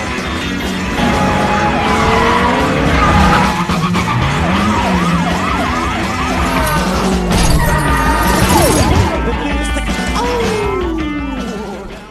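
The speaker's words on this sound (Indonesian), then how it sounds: "datanglah beberapa mobil polisi hingga terjadi aksi" Car chase in an action film with police cars pursuing: loud squealing tyre skids and revving engines sweep through continuously, with crash-like bursts and a siren-like wail mixed into the dense, busy scene.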